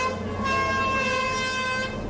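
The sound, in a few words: fishing boats sounding horns on departure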